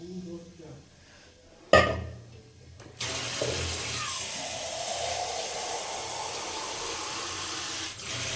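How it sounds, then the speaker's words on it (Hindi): Water poured from a vessel into a pot of dal cooking with aloo gobhi sabji in a Bihari-style home kitchen, a sudden splash then a steady loud hissing, bubbling pour that runs to the end. "पानी थोड़ा इसमें और हमने डाल दिया है"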